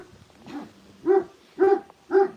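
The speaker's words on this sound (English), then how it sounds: "They are barking at us." Dogs bark close by in a short series of three or four sharp, evenly spaced barks after a softer opening yelp, with no talk over them.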